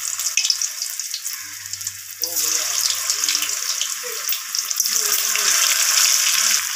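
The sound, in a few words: boiled potatoes frying in hot oil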